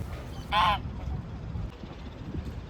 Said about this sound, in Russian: на нем часто можно встретить как раз гусей